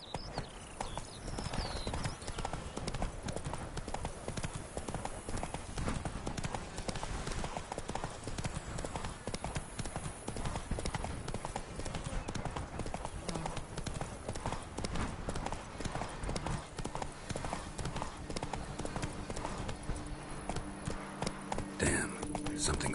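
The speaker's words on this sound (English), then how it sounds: "Run, Roach." In the video game The Witcher 3: Wild Hunt, a horse gallops without a break, its rapid clip-clopping hoofbeats running evenly and close by from start to finish.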